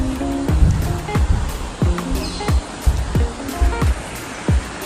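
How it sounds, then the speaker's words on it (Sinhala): The Menik Ganga river near Kataragama flows with a steady, broad rush of water, while sharp chirping calls repeat over it at short intervals. "මේ තමයි ළමයි මැණික් ගඟ."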